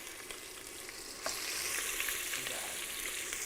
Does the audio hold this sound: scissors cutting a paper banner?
no